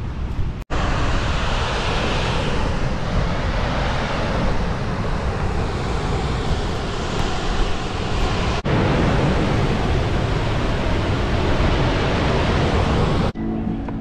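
A waterfall near Quebec City roars loudly and continuously up close, a dense, unbroken rush of falling water with no pauses.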